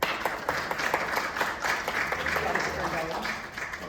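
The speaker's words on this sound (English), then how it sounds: "I think we should give him a big round of applause" Audience applause at a lecture-recital, a steady spread of clapping heard at moderate level, with someone talking over it.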